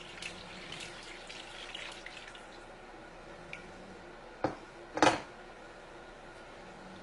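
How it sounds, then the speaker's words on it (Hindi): Boiling water pours quietly into a pot of rice for a few seconds, followed by a couple of sharp clinks and knocks. "उबलता हुआ पानी हमने जितने चावल है उससे डबल हमने पानी डालना है।"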